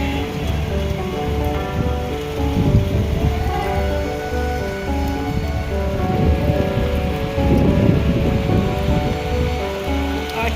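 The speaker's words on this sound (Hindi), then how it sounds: "झमाझम बारिश हो रही है।" Heavy rain pours steadily onto a rooftop, a dense, even hiss with scattered drop patter that swells and eases slightly, loud and close with no talk.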